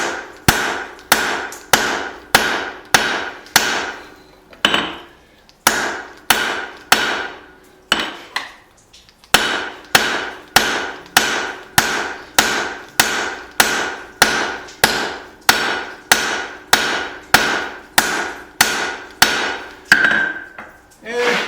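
Heavy hammer blows land one after another on a hot hatchet taper at the anvil, loud and close in an even beat with a short pause partway through, each strike ringing briefly.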